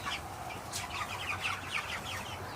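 Cornish cross meat chickens in a coop with grass, giving soft scattered clucks and chirpy calls at moderate distance over a low steady background hum, no one talking.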